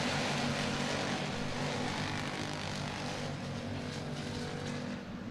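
Stock cars race around the track at the Cocopah Winter Nationals, their engines forming a steady, loud, unbroken roar that stays constant throughout with no voices over it.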